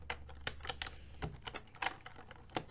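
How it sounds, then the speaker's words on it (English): Steady bursts of typing on a computer keyboard, clusters of quick clicky keystrokes with short pauses between them, close and fairly quiet, with no one talking. "Start typing name."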